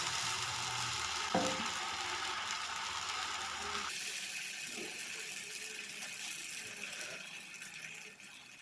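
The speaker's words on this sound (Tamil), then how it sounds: "தோசைக்கல்லில் கொஞ்சமாக எண்ணெய் விட்டுட்டு இப்போ தோசை மாதிரி அதை ஊற்றி எடுத்துக்கலாங்க." Dosa batter poured in a square shape sizzles on a lightly oiled dosa griddle, a steady close frying hiss with a brief scrape early on, dropping to a quieter crackle partway through.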